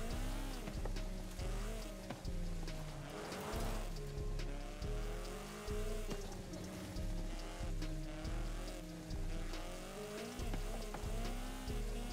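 Sim racing video game car engine revving hard and repeatedly rising and dropping in pitch as gears are shifted, loud and continuous with rhythmic surges, no talking over it.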